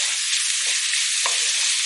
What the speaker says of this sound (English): They're all frying up.